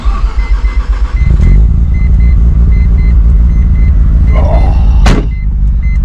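A Mazda FD RX7 rotary engine rumbling loudly and steadily up close, a deep constant drone with a brief sharp knock near the end.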